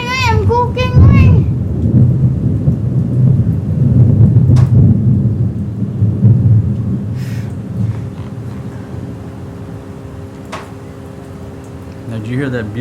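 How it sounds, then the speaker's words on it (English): Thunder rolls through a rainy thunderstorm in a stereo recording, a heavy low rumble building over the first several seconds before easing into a quieter tail under rain, with people talking at the start and near the end. "I'm trying to capture this beautiful thunder"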